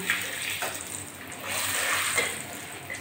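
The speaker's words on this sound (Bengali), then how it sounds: "এই তেলের ভিতরে আমি তেজপাতা ফোড়ন দিয়ে দিলাম" Bay leaves dropped into hot oil for tempering in a Bengali egg curry fry with a steady, hissing sizzle that swells and eases over a few seconds, fairly quiet and close.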